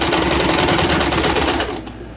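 A sewing machine runs steadily while backstitching across a long-sleeve shirt cuff, a loud, fast, even mechanical chatter up close that stops abruptly near the end.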